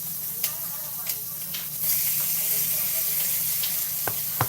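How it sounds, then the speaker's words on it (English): Butter sautéing in a pan gives a steady, close sizzling hiss that swells slightly partway through, with faint kitchen clatter over it. "So got to let that butter saute."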